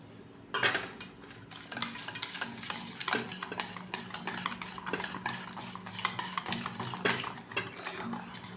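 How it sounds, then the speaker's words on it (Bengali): Semolina being stirred into mango cake batter with a spoon, a steady run of close scraping and clinking strokes against the bowl, continuous throughout with no voices. "সুজিটা অল্প অল্প করে দেব আর মেশাবো, না হলে দলা দলা হয়ে যাবে।"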